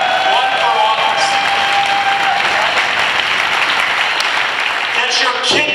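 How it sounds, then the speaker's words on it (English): Sustained, loud applause from a crowd at a unity and justice rally, steady clapping with some cheering mixed in and voices faintly audible underneath. "Applause. Applause."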